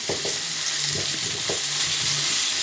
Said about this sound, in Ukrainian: Ось шкварчить.